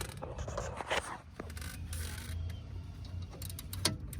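19 mm lug nuts come off the wheel spacers on a 2008-2014 Cadillac CTS rear wheel, with close metallic clinks, scrapes and ratcheting, plus a few sharp taps among a low, steady background hum.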